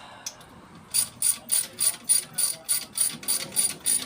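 A hand ratchet loosens two 12mm bolts on the AC belt tensioner of a 1999 Subaru Liberty with an EJ251 engine, making a run of about a dozen quick, evenly spaced clicking bursts, close and clear.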